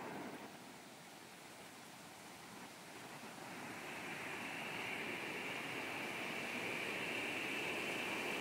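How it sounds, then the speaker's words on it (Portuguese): A roadside stream of flowing water, a continuous soft rushing hiss that grows slightly fuller partway through, heard alone with no voices. "a gente parou porque a gente ouviu um sonzinho de água"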